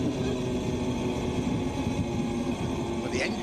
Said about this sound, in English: Well, the engine's still running, but gearbox.